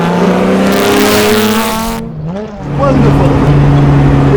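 A 1963 Aston Martin DP215 racing car, a David Brown-era Grand Touring competition prototype, roars loudly up close. Its engine note sags and dips briefly partway through, as if shifting, then builds back to a strong, steady drone.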